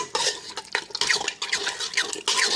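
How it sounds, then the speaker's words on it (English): A spoon stirs a thick vegan lentil sloppy joe mixture with maple syrup, close and wet, with repeated squelching strokes and small scrapes in an uneven rhythm. "So now I'm going to mix this all up. Mix it really well."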